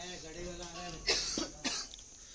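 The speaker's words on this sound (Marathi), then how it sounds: "खोकला नक्की." A person gives about three short, dry coughs close by at a lively success party for a dhol tasha troupe. A bit of voice is heard just before the coughs.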